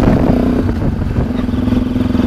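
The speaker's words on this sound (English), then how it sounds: "get out on the road and give it a good test ride" A Sinnis Terrain motorcycle rides along a road on a freezing winter day, its engine droning steadily and close with a rough, pulsing mid-range hum throughout.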